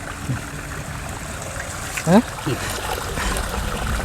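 Water runs in a steady, moderate trickle while raw chicken is washed outdoors before grilling, with a short tonal chirp and a faint splash midway.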